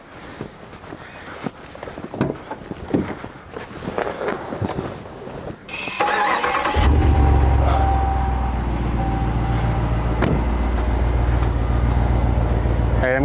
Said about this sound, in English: let's go ahead and start the vehicle up